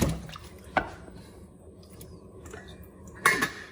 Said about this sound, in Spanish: echamos a nuestros amigos los boniatos